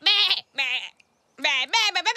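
A cartoon character's voice imitates sheep, giving several wavering, nasal bleats in quick bursts separated by short pauses, close and clear.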